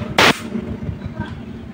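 A single loud, close blast of compressed air from an air gun run by an oil-free air compressor, short and sharp, followed by a low hum and faint background noise.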